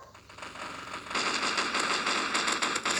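Gunfire in the blocky shooter Block Gun: a quick stream of crackling shots that starts softly and becomes steady and dense partway through, fairly faint.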